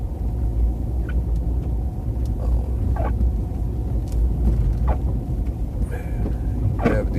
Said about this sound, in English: I'm driving a Jeep. I don't have it in 4-wheel, but probably should.